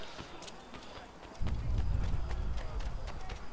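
Horse hooves clip-clop in a quick running rhythm in the video game Assassin's Creed 3, starting after a quieter moment and continuing steadily at moderate volume.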